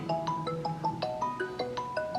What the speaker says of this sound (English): During the presentation is not the time to get a phone call.